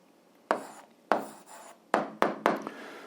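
A pen writing out an answer to an eighth-grade algebra exercise: five short scratchy strokes and rubs against paper, close and distinct, with brief pauses between, no talking.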